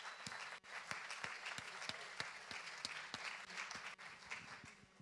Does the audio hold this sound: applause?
yes